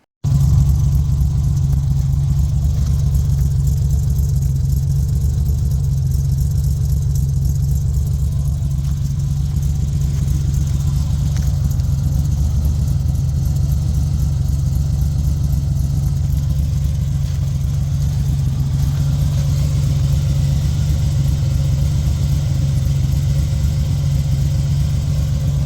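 A mini truck lowrider's engine runs steadily through a cheap $50 aftermarket muffler, a loud, continuous low exhaust drone that holds for the whole stretch with no talking.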